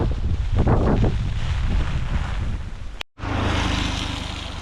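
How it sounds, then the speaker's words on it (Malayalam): Strong wind at Cheenthalar, Idukki, buffets and roars across the microphone, gusting loudly, briefly cutting out, then rushing back in a steady blustery blast. "ഒരു തരം കാറ്റ്"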